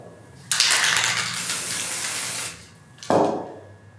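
Blue fabric spray paint hisses from an aerosol can in one long, steady burst of about two seconds, followed by a shorter second spray.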